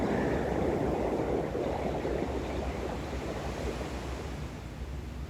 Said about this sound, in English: the ocean sounds in real life are way better than any bedside recording